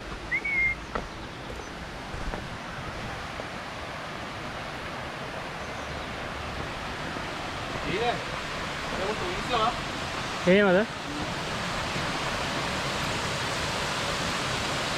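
Continuous roar of Bambarakanda waterfall in Sri Lanka fills the background as a steady, dense hiss, while someone speaks briefly and a few short whistle-like tones rise over it.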